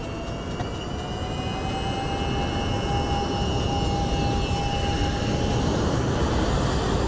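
An MD-11F freighter's jet engines in X-Plane 11 spool up to power, a steady loud roar with high whining tones that climb slowly and hold throughout.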